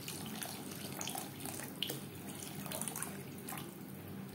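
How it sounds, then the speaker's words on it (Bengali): Water is poured into a pan of spiced masala for a Bengali aar fish curry, a soft continuous splashing pour with faint droplet sounds, fairly quiet and unbroken. "এই পর্যায়ে দিয়ে দেব জল"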